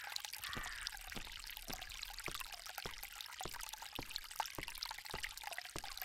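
Flowing water in the Agatha Christie: The ABC Murders video game trickles steadily throughout. Faint, evenly spaced ticks run under the water, and no one speaks.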